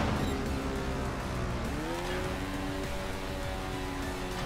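Motorcycle engine in the stunt game Trials Fusion, a loud, steady synthetic drone with a pitch that swoops down and then climbs again midway, as if revving through flips, and tyre-like squeal layered throughout.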